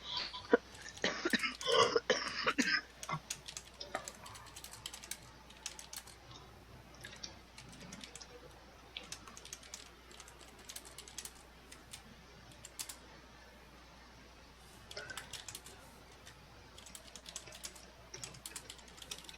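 Computer keyboard typing during an online tabletop dice-rolling game session, a dense burst of clicky keystrokes at the start, then scattered irregular taps continuing quietly throughout.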